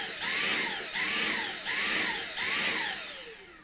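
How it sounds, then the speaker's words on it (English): A cheap, faulty Dyson V6 Absolute cordless vacuum cleaner runs, its whining motor surging and dropping in four regular pulsing cycles, close and fairly loud with no talk. "this is my new Dyson"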